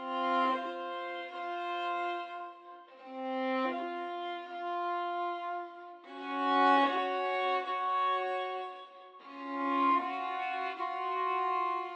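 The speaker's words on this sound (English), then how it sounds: "I went into Pathfinder violin and I grabbed this clean up preset right here" Pathfinder violin on a clean-up preset plays a slow chord progression, four sustained bowed chords with soft swelling attacks, clear and close with no talking.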